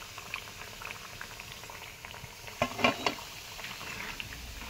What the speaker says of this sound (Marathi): सुरुवातीला थोड्याशाच तळून घेते मी